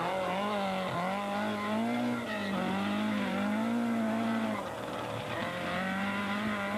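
A Ford Escort rally car on a loose gravel forest stage in Tipperary, its engine wailing loudly and continuously with rising and falling revs as it slides along, close to the listener.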